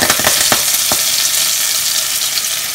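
Curry leaves hit hot oil in a pan after mustard seeds have popped, while a Kerala fish molee is being cooked. A loud burst of crackling spits at the start, then settles into a steady, dense sizzle.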